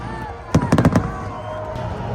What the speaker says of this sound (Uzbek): Salyut bo'lyapti